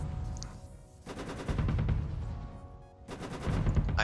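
Frag cannon weapon fire from the space combat game Starsector: dense, rapid bursts of heavy gunfire in two long loud volleys separated by a brief lull, with layered impacts and booming low end.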